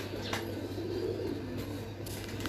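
Low, soft cooing from a pigeon carries on for a couple of seconds over a steady background hum, alone.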